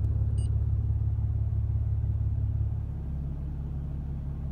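A 2017 Ram Laramie Cummins diesel pickup idles with its exhaust set to a rumble tune, a steady low throb close by that eases slightly quieter partway through, with no talking.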